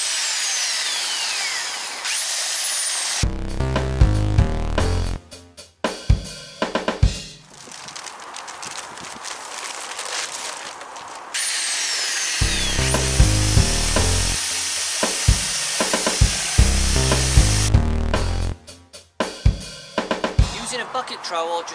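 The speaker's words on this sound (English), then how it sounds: "With your power drill on the slower setting, gently start to mix the plaster with the water." A power drill on a slow setting mixing plaster powder into water in a bucket, whirring and churning in several long bursts separated by short pauses, close and loud.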